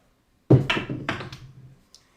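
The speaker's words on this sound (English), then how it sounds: "Dice out." Dice thrown onto a craps table land with one close, sharp thud and tumble briefly to a stop, followed by a faint tick; no one speaks.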